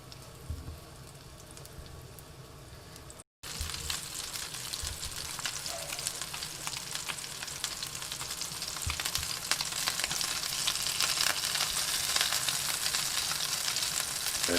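Steady, crackling sizzle of meatballs frying over high heat in a hot pan, continuous and fairly close, with a brief gap near the start and no voices.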